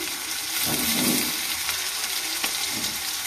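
Chopped garlic and nigella seeds frying in hot oil, a close, dense hiss with brief surges of crackling as the pan is stirred, no voices.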